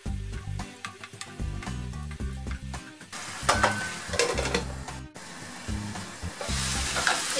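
Meat for konak kebab sizzles and fries in a pan, with crackling spatter and clinks of stirring close by, growing busier partway through, with no talking.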